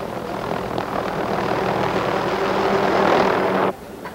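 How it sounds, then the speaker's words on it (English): Steady loud rotor-engine drone of a helicopter holding for several seconds, then dropping off sharply near the end. "sometimes by helicopter."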